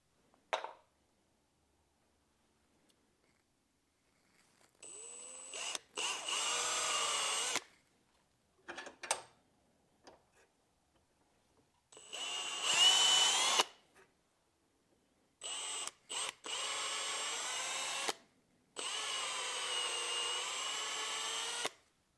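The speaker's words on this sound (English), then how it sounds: "I'm going to take a 1/8 inch drill bit, and you're going to want to drill in about 3/4 of an inch" A power drill with a 1/8 inch bit whines in several bursts of a few seconds each, drilling about 3/4 inch into a 3D-printed mount base, with short pauses between runs, close and fairly loud.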